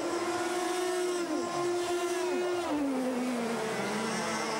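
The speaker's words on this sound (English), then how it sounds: "These wonderful little Formula 100 engines" 100cc water-cooled Formula 100 racing kart engines scream at high revs during a sprint championship final, the pitch rising and falling as the karts shift and pass, loud and continuous.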